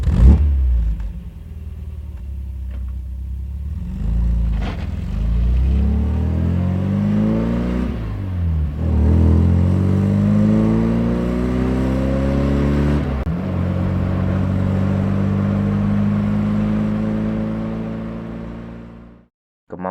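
A car in an Indonesian animated drama drives off and accelerates, its engine rising and falling through gear changes in a steady, close rumble that runs nearly twenty seconds before cutting off.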